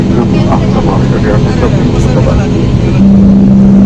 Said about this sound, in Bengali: আমাদের বিমানটি এরমেই স্পিড বাড়ছে